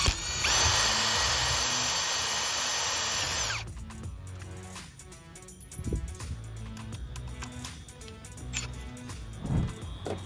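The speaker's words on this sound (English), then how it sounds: "You drill a little hole" A power drill boring a small hole into hard metal on a Mercedes W213 E-Class seat part, a steady high whine for a few seconds that then cuts off, followed by quieter scraping and handling noises.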